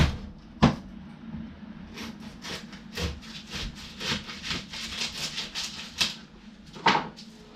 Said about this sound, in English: Cut some onion.